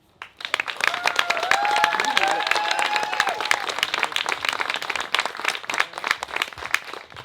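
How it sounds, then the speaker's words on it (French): Wedding guests applaud steadily, with dense clapping that swells quickly, holds strong for several seconds, then thins out slightly toward the end. "On les applaudit."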